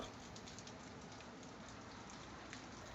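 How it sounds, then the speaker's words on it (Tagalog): Steady rain falls on the open Arctic tundra, an even, dense patter of drops with no breaks or voices, fairly soft and continuous throughout. "Some days and nights, rain would fall."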